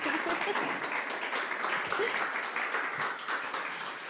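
A live studio audience at an interview show claps in sustained, broad applause that holds loud for several seconds and eases slightly toward the end, with possible voices mixed in.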